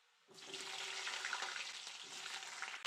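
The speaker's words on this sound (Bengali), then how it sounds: "কেটে রাখা কুমড়ো আর আলুগুলো দিয়ে ভালো করে ভেজে নেব।" Cut pumpkin and potatoes dropped into hot mustard oil with five-spice seeds, a sudden loud, steady sizzle that holds close for a few seconds.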